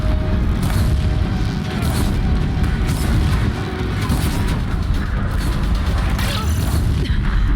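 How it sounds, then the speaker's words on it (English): Deathbringer guns pounding a bridge in Horizon Zero Dawn, a dense, loud barrage of booming blasts and crashing impacts with rumbling debris, continuous and close throughout. "If the Deathbringers keep firing, this bridge will go."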